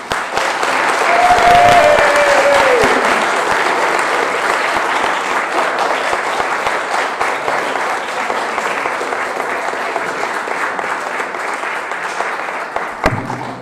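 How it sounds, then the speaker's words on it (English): An audience at a talk applauds loudly and steadily, a thick wash of clapping that eases slightly toward the end, with a brief whistle-like tone early on. "that was not nearly enough applause for Inelia"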